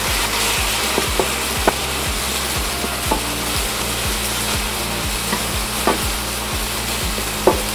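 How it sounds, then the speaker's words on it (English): Pasta sautéing in a hot pan for a Vietnamese beef stir-fry, with a steady loud sizzle and quick, regular scraping strokes of a spatula stirring it, about three per second, close up. "add in your pasta and saute it for a couple of minutes"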